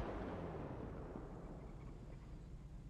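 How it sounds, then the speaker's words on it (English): Deep rolling explosion rumble in a GTA roleplay game, a heavy low roar that slowly fades, with no talk over it. "Deputy, don't make me sit through all these explosions and shit, man."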